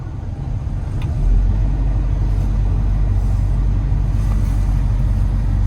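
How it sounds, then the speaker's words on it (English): Mini excavator after a sensor fault fix: the diesel engine catches about a second in and settles into a loud, steady low rumble that holds at raised revs with no talking. "We'll start it now, see if it'll rev above"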